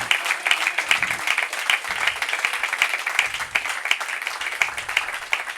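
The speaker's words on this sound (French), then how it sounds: "Give the Lord a better clap offering." A church congregation claps and applauds in praise, a steady dense patter of many hands with sharper individual claps rising through it, sustained throughout with no voices on top.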